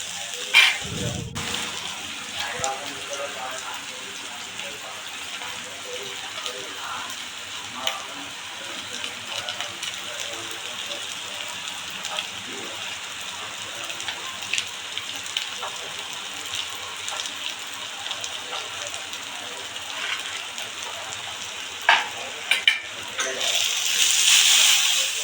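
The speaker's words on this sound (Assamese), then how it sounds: "মছলাখিনি দিয়াৰ পিছত ধুনীয়াকৈ এইখিনি ভাজি ল'লোঁ" Spices such as coriander powder frying in a pan for an Assamese pointed gourd and egg curry, a steady hissing sizzle throughout with faint clinks near the end and no talk over it.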